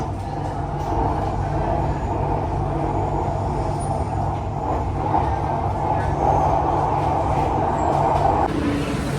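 An Indian metro train arrives at Government Street station, a continuous rolling rumble with a steady mid-pitched hum that rises slightly before a sudden change near the end, moderately loud and unbroken.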